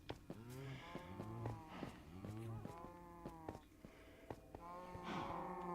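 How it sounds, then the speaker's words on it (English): Cattle moo repeatedly in the video game Minecraft, several low drawn-out calls in steady succession, clear and prominent with no talking over them. "Nobody fed the cows again."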